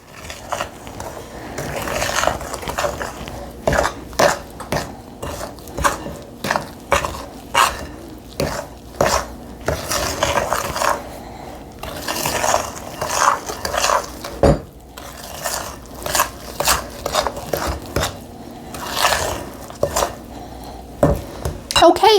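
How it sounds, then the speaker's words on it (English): Gingerbread batter being mixed with a cup of buttermilk in a bowl, a steady run of scraping, clinking stirring strokes that stay close and fairly loud throughout. "add in the buttermilk. This is 1 cup. And we're going to go ahead and mix this up"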